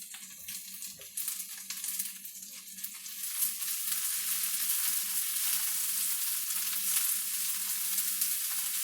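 Swiss chard greens and onions fry and are stirred in a pan, giving a steady, close sizzle that grows denser and louder partway through, with soft scraping of the stirring.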